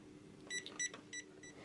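A green 12-line 360-degree self-levelling laser level gives a series of short, high electronic beeps, three or four evenly spaced pips, quiet and close with a faint low hum underneath.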